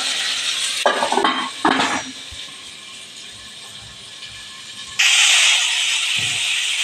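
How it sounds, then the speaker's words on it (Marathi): Stuffed ivy gourd scrapes and clatters in a pan as it is stirred, a few quick strokes early, then a loud steady sizzle takes over near the end. "याची आपण चांगली परत तोंडली एकदा हलवून घ्यायची"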